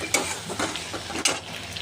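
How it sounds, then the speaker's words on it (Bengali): Masala paste of ginger, cumin, tomato and green chilli sautéing in a pan, with a steady soft sizzle and a few scraping stir strokes; no talk. "মশলাটা কষা হচ্ছে"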